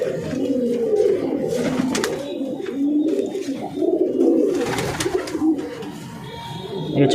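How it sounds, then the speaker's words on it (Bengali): Madras pigeons coo in low, throaty, rolling phrases, close and continuous, with a few sharp clicks and rustles mixed in. "ম্যাড্রাস পায়রা একটু দেখাবো"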